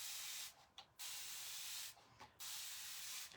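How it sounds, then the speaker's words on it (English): A spray bottle mists water onto an ink transfer in a tray, a steady soft hiss broken by two brief pauses as the trigger is pumped, faint and close. "I'm just going to spray some water on that and let it have water on it"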